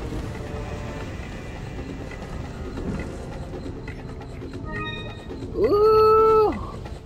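In the video game Resident Evil 4, a cat's single sharp meow rises out of a low, murky ambient background near the end, brief and fairly loud against the quiet game atmosphere.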